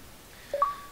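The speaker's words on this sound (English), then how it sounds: "That was my phone." A phone notification chimes with two quick, faint electronic tones, the second slightly higher in pitch, against near silence.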